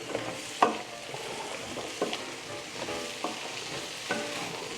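Cauliflower tossed and stirred in a frying pan for a bhaji, with a constant sizzle and repeated scraping spoon strokes at a steady, unhurried rhythm, close and moderately loud.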